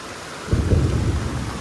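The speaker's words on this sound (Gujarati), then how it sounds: "આજે તો વરસાદે રેકોર્ડ તોડી લેતો ભાઈ પાસોદરામાં" Heavy rain pours down over a flooded village market in Pasodara, with a deep rumble of thunder swelling in partway through, loud and close with no voices.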